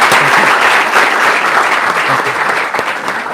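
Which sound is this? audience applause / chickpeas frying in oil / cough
audience applause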